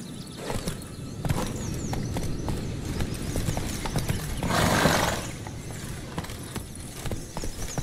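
Roach the horse gallops in The Witcher 3: Blood and Wine, a quick steady clip-clop of hooves close by with a brief rushing swell midway and no talk.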